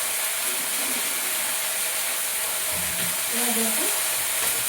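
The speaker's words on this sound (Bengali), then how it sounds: "এই শাকগুলো তাড়াতাড়ি করে ভেজে নিতে হবে" Leafy greens fry in a pan, making a steady loud sizzle throughout while someone speaks briefly over it.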